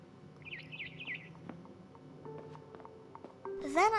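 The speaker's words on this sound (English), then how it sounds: "Then I heard chirping outside my window." A barn swallow chirps outside a window in the video game What Remains of Edith Finch, a few faint twittering calls early on, then a brighter, louder run of chirps at the end over quiet background sound.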